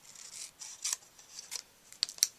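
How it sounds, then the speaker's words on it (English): Scissors trim a metallic paper doily in half, giving a run of quick, close, crisp snips and rustles of varying loudness. "Now with our metallic doily, I'm just going to trim this right in half."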